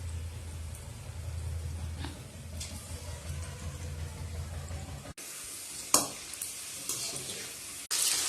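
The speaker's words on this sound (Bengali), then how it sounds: "এবার পকোড়াগুলো ভালো করে ভেজে নেবো একটা একটা করে।" Pakoras fry in hot oil in a wok with a continuous low sizzle and bubbling for several seconds, then the sound cuts to a brighter, hissier frying with a few sharp clicks.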